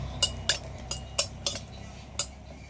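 A spatula stirs four or five cashews and a dried chilli in a little oil in a pan, giving about seven light metallic taps at an uneven pace. The taps are quiet and close, with a soft background hiss.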